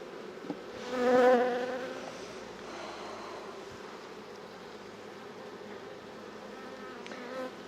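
Dense, steady buzzing of many honey bees close up at a weakened hive, swelling briefly louder near the start then settling into a continuous drone.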